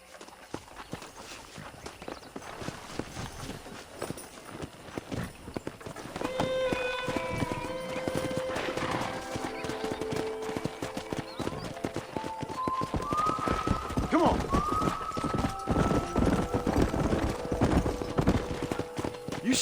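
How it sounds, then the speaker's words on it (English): Hooves clip-clop in a steady run while a horse whinnies several times, with a busy outdoor soundscape behind, in the video game Red Dead Redemption. "let's see if we can't wrangle some horses"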